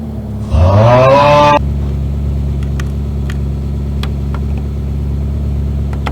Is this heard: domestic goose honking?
no